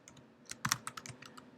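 Keys on a computer keyboard are tapped in a quick, irregular burst of a dozen or so soft clicks, close and fairly quiet, with no voices.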